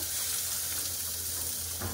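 Onion and ginger cook in an almost oil-free dry pan with spices, making a steady, close hiss of frying with a low hum underneath. No voices.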